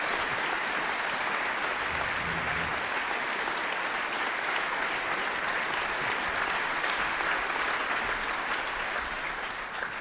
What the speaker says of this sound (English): A warm applause for Paul and Manthos, please.